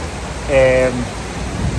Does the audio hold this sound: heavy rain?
yes